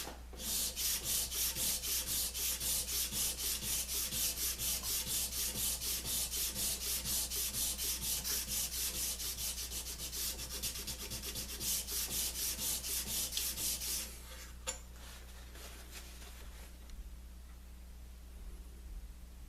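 A spokeshave blade worked back and forth on abrasive grits, producing close, rhythmic rasping strokes at a steady tempo for most of the time before they stop, leaving a low background hum.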